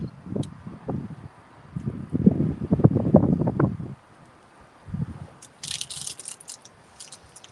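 Gusty wind buffets outdoors at a catfishing spot, low rumbling bursts that swell and fade, then a lighter hissy rustle toward the end; no voices.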